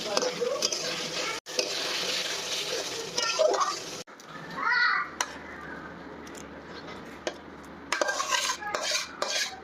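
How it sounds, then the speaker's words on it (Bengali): Prawn head fat frying in a pan with a busy sizzle and repeated scraping and clinking of a metal spatula against the pan, broken by brief gaps, with some voice underneath. "চিংড়ি মাছের ঘিলো রান্না হয়ে যাচ্ছে প্রায়"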